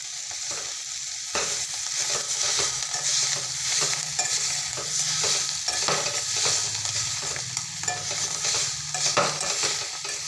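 Cowpea vegetable curry simmers and sizzles in a pan while a spoon scrapes and stirs it in repeated strokes, a steady close frying sound with no voices.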